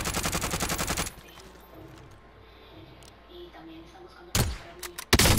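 Rapid automatic gunfire in Call of Duty, a fast loud burst for about a second, then quieter ambience before two more sharp heavy shots near the end.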